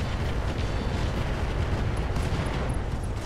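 A BattleTech mech in RogueTech unleashes every weapon at once, a dense sustained roar of blasts and booming fire that stays loud and unbroken throughout, with no talking.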